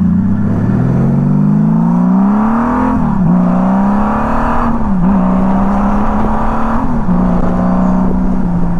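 A 1999 Honda Valkyrie F6C motorcycle engine pulls smoothly and loudly up through the revs, with brief dips at each gear change before settling into a steady, close-up drone with no talk.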